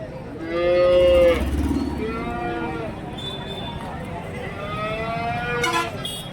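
Calves and cattle moo repeatedly at the Karimangalam cattle market in Dharmapuri district, where HF and Jersey calves are sold. Several long, drawn-out calls overlap against a busy crowd murmur, with a faint horn far off near the end.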